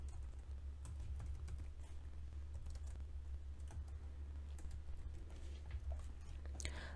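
Typing code on a computer keyboard, with quick, steady key clicks in a quiet room and a faint low hum behind them.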